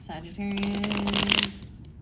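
A deck of tarot cards is shuffled close up in one quick riffle of rapid papery flicks, with a voice humming or speaking a sustained tone underneath.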